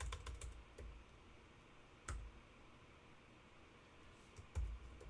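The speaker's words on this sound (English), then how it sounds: "I'm just going to type it." Typing on a computer keyboard while writing code for an Advent of Code puzzle, with soft, irregular key clicks and a few louder bursts of keystrokes, close and alone.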